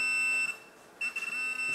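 A Minelab Profind 35 pinpointer beeping steadily on a non-ferrous target, a continuous high tone that briefly cuts out for about half a second and then resumes.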